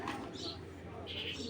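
A female racing pigeon coos softly and briefly close by over a steady background hum.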